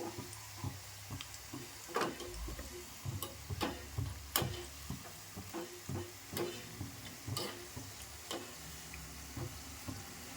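Food roasting in a pan on both sides for a traditional Konkan dish, with faint sizzling under a series of sharp utensil taps and scrapes spaced irregularly, close and quiet.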